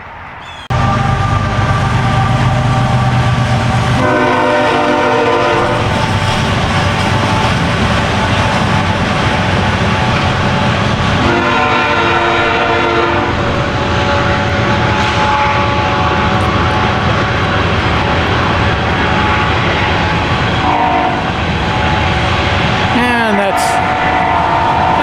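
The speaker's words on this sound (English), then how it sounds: "That's what the train sounds like when it goes by here." A loud, sustained rumble of a passing train with low droning engine noise and periodic harmonic tones, filling the whole stretch without letup.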